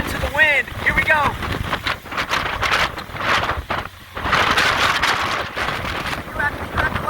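Strong Hurricane Sally wind roars on Dauphin Island, Alabama, buffeting the microphone in loud, gusty surges and dips throughout, with a person's voice speaking over it.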